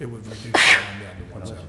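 A single sharp sneeze bursts out between stretches of steady talking, loud and close, with speech resuming right after.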